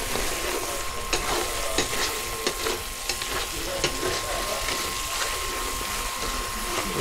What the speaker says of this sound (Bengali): কাকা এখন মাংস কষাচ্ছে ফুল মুডে